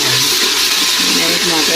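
Water splashes into a hot pan of browned onions and garlic-ginger paste, setting off a loud, close, continuous hiss and sizzle.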